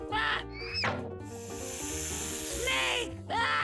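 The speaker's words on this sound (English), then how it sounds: "Snake!" A cartoon snake hisses in a children's animal-learning cartoon, a loud breathy sizzle running through most of the clip over bright musical tones and sound effects.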